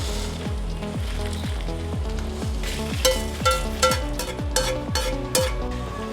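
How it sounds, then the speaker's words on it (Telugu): Green and dry chillies frying in hot oil for a large batch of pulihora, with a steady sizzle under rhythmic scraping strokes of stirring, close and continuous. "సో ఇది కలుపుతూనే ఉండాలి"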